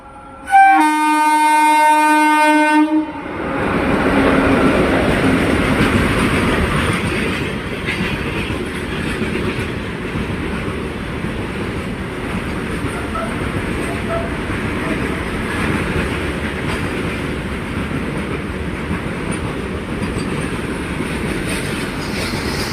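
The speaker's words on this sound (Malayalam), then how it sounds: "ഒരു ഡബ്ല്യു എ ജി സെവൻ ലോക്കോയുമാറ്റുന്ന ഒരു B C N I goods ട്രെയിനാണ് ഇതാ വന്നുകൊണ്ട് നിൽക്കുന്നത്" A WAG-7 electric locomotive hauls a BCNA goods train into Vellayil station, opening with a loud horn blast, then a sustained rumble of wagons and rolling wheels close by, with faint wheel squeal.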